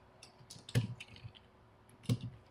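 Computer keyboard typing while entering a text label in Revit, faint, with a few soft scattered clicks and two sharper key presses standing out in a quiet room.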